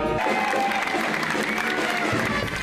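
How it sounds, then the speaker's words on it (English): Crowd applause fills McBride Auditorium at a university arts campus construction celebration, steady dense clapping from a large audience mixed with murmuring voices, with an upbeat procession atmosphere. "Hands clapping."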